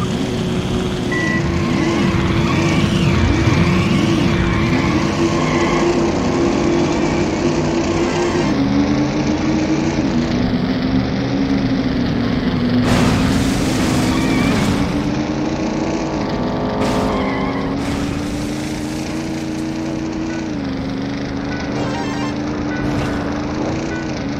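A car engine in the Midtown Madness driving game drones steadily for over twenty seconds, its pitch rising and stepping down with gear changes, with intermittent bursts of crash and impact noise layered over it.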